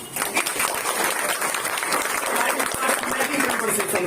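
Dense, steady applause from a group of academy students fills the room, with a voice speaking over the clapping.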